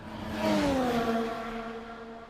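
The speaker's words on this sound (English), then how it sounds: "cars are pretty loud and you can't hear me" Cars pass on a street in Hungary, a loud rising then fading engine whoosh with a falling drone as a vehicle goes by close.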